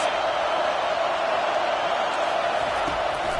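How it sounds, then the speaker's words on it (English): A large stadium crowd cheers and roars continuously during an NCAA 25 college football video game, a dense, loud wash of noise throughout. "Listen to this crowd just shaking the girders of this place trying to help their defense."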